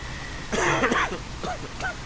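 A short cough and throat-clearing sound from a character in the video game Quarantine Zone: The Last Check, a couple of rough bursts over a steady background hum.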